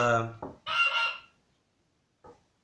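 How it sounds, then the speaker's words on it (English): A goose honks loudly at close range in a chick-rearing setup, giving a long harsh call, then a second burst, and one short final honk after a pause. "the goose is talking, the goose is not happy"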